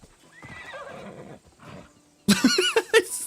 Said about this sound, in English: Where's my horsey?